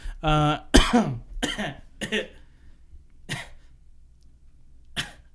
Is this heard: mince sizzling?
no